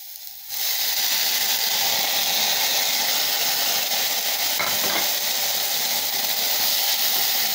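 Flat beans (thattaikkai) dropped into a pan of fried onions set off a sudden loud, continuous sizzle and hiss that holds steady close up, with light stirring scrapes partway through.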